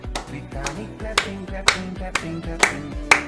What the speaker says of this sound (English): Keep clapping, guys.